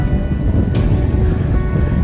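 Steady wind rushes and buffets close to the microphone high up on a tower, a constant low roar with no voices.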